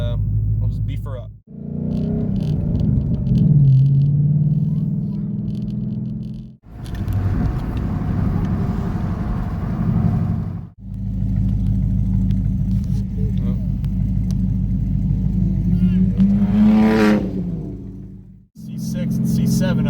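A Dodge Hellcat Redeye engine bellows under hard acceleration while racing, loud deep rumbling pulls broken by brief drops as gears shift, with a high whine climbing near the end and no clear talk.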